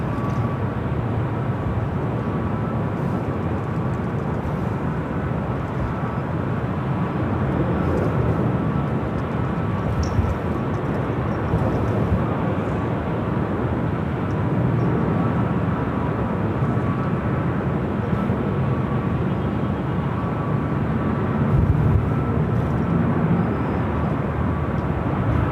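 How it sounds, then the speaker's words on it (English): An airliner takes off from the south side of LAX with a long, loud, steady engine roar that barely rises or falls over the whole stretch and carries no talk. "That was a takeoff from the south side, by the way."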